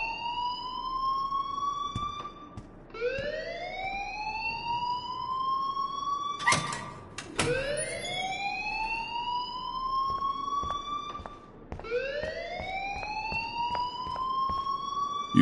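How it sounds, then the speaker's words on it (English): Electronic alarm blaring in the video game Life Is Strange, a loud rising siren-like wail sweeping upward in repeated cycles of about four to five seconds, continuous throughout with no talking. "please turn off that alarm"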